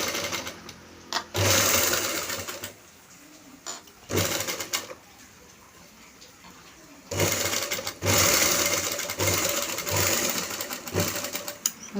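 An electric sewing machine stitching a sleeve joint with a frill for a puff sleeve: fast, buzzing runs of stitching repeat in bursts of a few seconds, separated by brief pauses.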